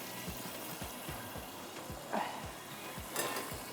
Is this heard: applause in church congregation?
no